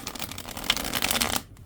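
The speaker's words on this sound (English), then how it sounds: "these cards do shuffle quite nicely." Capybara Tarot cards, a textured non-linen stock, riffle in a quick crisp shuffle of rapid papery flutters lasting over a second, close and alone, ending abruptly.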